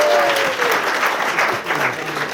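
Wedding guests applauding, a loud, dense round of clapping from the room with a little voice or whistle-like tone mixed in near the start.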